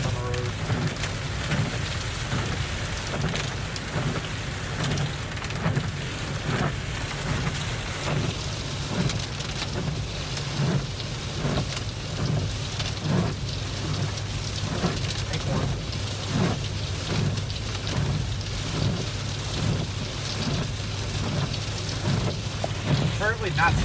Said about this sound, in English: rain on the road